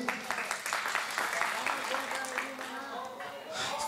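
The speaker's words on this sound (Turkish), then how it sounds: "Alkışlar gelsin." Wedding guests applaud at a Turkish village wedding as gold gifts are announced, a soft, steady patter of many hands spread through the room, fairly distant and low in level.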